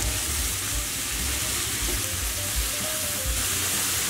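Beef mince, onions, carrots and crushed garlic fry in a pot for a one-pot beef chilli, giving a steady, even sizzle that holds at a moderate level throughout with no talking.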